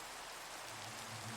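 Rain falling in Minecraft at night, a steady, even hiss of drops with a faint low hum underneath, moderately quiet and alone without speech.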